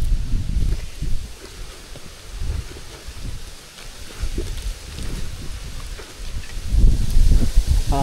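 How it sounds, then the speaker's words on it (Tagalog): Strong wind gusts through a corn field, a loud rustling roar of leaves that swells and eases in waves, with low buffeting rumbles. "Malakas mga kadudoy yung hangin."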